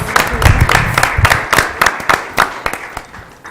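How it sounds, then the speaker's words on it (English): A round of applause fills a school district governing board meeting, with close, uneven claps from a modest crowd that thin out toward the end. "Round of applause."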